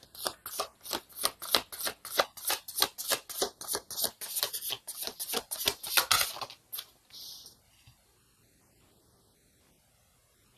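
Tarot cards shuffled by hand in a steady, rhythmic series of close, crisp riffling slaps for about six seconds, then a softer final riffle before near silence.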